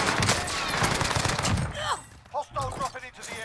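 Gunfire in a shooter video game, a rapid burst of shots early on that fades out, followed by a few short bird-like chirps, all fairly quiet.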